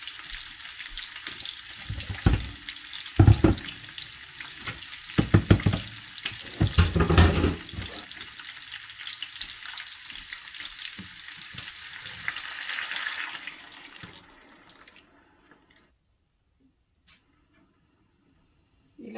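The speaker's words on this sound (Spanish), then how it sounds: "ahora le voy a añadir la salsa" Green salsa hits browned pork ribs in a hot pan, erupting into loud hissing sizzle with bursts of bubbling and stirring, fading over several seconds to quiet near the end; a voice speaks over it at times.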